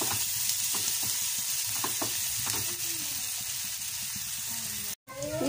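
Onions and curry leaves sauté in a hot pan for an Irani pola, a steady close sizzle with scattered stirring clicks and scrapes, broken by a brief silent gap near the end.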